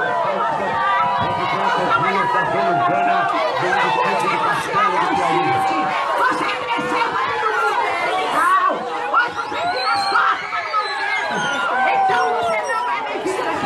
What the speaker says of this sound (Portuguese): Está no Piauí abaixo vaia. Vaia no governador.